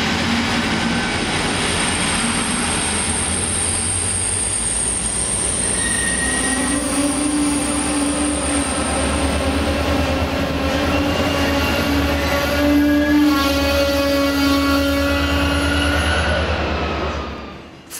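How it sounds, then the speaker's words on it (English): An ME1500 class train, ME1514, arrives at Osterport on a terminating service, a loud continuous rumble of rolling wheels with long high squeals from the rails building as it draws in. "seen here as ME1514 arrives with a terminating service"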